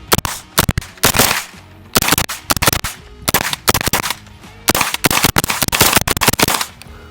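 First shots from a Hydra Vipera 9mm handgun at a range. Loud, sharp reports come in fast strings and clusters with brief gaps between groups, heard close. No one speaks.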